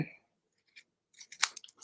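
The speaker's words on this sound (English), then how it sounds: "I might have to trim it. I gotta grab my scissors." A few short crisp snips and crunches of scissors trimming paper for a handmade card, close by, in a brief quiet burst after near silence.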